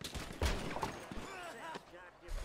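Gunfire in Grand Theft Auto V during a chaotic driving mission, with sharp bursts of shots among loud in-game noise while a player talks over it in Hindi.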